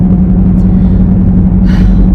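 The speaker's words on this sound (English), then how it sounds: "I'm sorry my car is so loud." Loud car engine while driving, a close, steady low rumble filling the cabin for a couple of seconds, with no voices over it.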